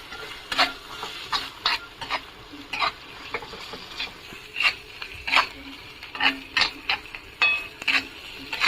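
A spatula scrapes and stirs cashew curry masala in a pan, its rhythmic strokes over a soft sizzle, close and fairly quiet, with no talking.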